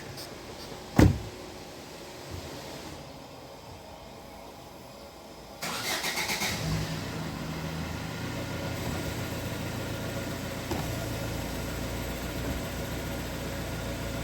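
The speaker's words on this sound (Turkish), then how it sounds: "Çalıştıralım aracı. Camları da indirelim." A 2010 Fiat Linea's engine cranks and catches with a sharp burst, then settles into a steady idle while the electric power windows whir down, all close and fairly loud with no talking.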